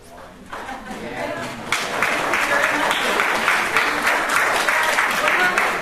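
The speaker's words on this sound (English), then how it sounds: "Somebody started clapping." An audience at a downtown-development presentation breaks into applause that starts quietly and swells into steady, sustained clapping from many hands, with faint chatter underneath.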